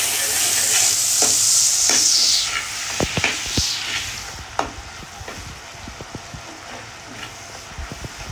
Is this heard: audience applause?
no